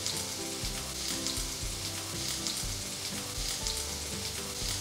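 Ginger and green chili frying in oil with cumin and fenugreek seeds for a sweet-sour pumpkin curry, a continuous soft sizzle running throughout beneath background music, no voices.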